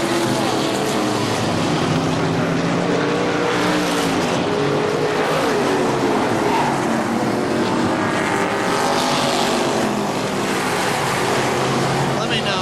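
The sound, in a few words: race cars racing at KilKare Speedway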